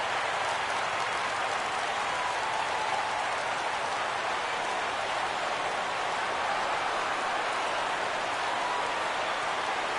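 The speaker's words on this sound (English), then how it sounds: "Crowd gets up for the 3-2." Crowd noise from a baseball video game, a Yankees versus Blue Jays matchup, swells as the crowd rises for a full count; a steady, dense roar of cheering and applause holds without a break.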